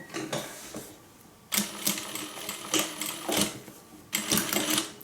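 A sewing machine stitches fabric for a homemade hippie van, running in three quick bursts of rapid mechanical clatter separated by short pauses, close and moderately loud.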